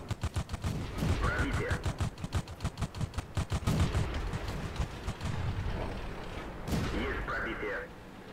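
Rapid bursts of tank gunfire in a video game battle involving a Tetrarch light tank, sharp repeated cracks in fast volleys with a few heavier booms, fairly close and loud, with a voice talking over parts of it.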